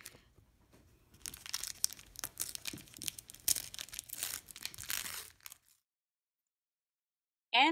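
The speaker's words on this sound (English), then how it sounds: "The fun part now is we get to rip this paper away." Tear-away paper is ripped and crinkled off stitched fabric applique close up, a burst of rapid tearing and crumpling for several seconds before falling silent.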